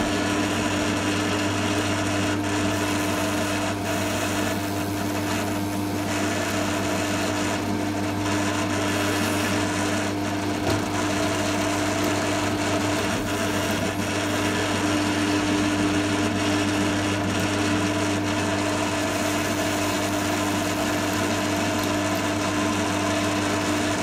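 A power drill with a 6mm bit runs continuously with a steady motor hum and a high whine, with scraping and grinding as the bit works through scrap metal.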